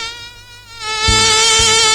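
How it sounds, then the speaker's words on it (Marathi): A mosquito sound effect from a Marathi comedy stage show gives a loud, close, high-pitched whining buzz that swells and holds steady, with two dull thumps under it. "हे मच्छर बघ त्याला"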